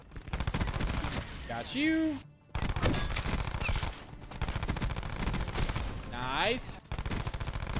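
Rapid bursts of Switchblade X9 submachine gun fire in Black Ops 4, dense and loud, running almost continuously with short gaps while a player talks briefly over the shooting.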